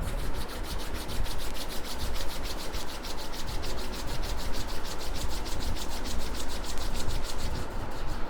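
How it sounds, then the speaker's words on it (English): Two hands rub together briskly and continuously, giving a close, steady rasping swish with a fast, even back-and-forth rhythm throughout, and no talk. "take your two hands closer and rub for few minutes."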